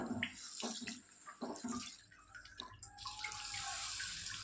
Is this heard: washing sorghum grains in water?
yes